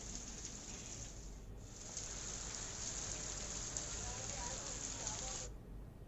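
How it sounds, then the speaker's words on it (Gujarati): Heavy monsoon rain falls in Khambha, Amreli district, Gujarat, making a steady, even wash of rain noise that is faint and continuous for the whole stretch. "વડિયાના ગ્રામ્ય વિસ્તારોમાં પણ ભારે વરસાદ નોંધાયો છે."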